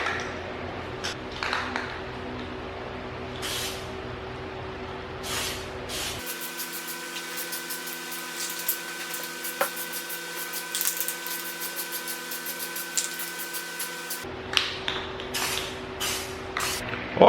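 Black spray paint hisses in short bursts and one long continuous spray over parts for a new Toyota Tacoma, close and fairly quiet, with small handling clicks between passes.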